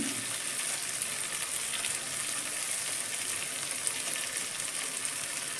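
Chopped ginger and garlic fry in hot oil in a pan over a low gas flame, giving a steady, even, hissing sizzle that stays at the same level throughout.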